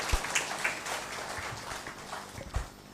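A short stretch of scattered applause from a small audience, claps irregular and moderately loud, fading toward the end.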